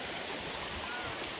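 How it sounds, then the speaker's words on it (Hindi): Chigoli waterfall in Chorla ghat, Goa, pours with a dense, loud, unbroken rush of water heard up close. "पानी का आवाज सुन लो एकदम,"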